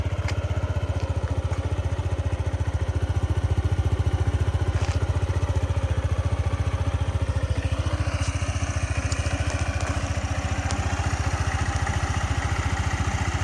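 A 2019 Yamaha Majesty 155 S scooter engine idles steadily up close, a low even putter with light mechanical clatter running unbroken throughout.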